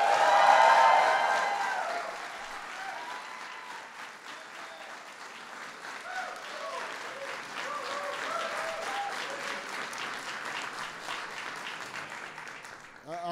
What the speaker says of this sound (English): I want to give a huge welcome and big round of applause